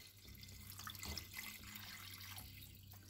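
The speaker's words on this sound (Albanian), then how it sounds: "Dhe si i kemi do t'i mbuloj me 1 litër ujë" Water poured from a jug into a pot of browned chicken and onion for soup, giving a faint, steady splashing stream with no talk.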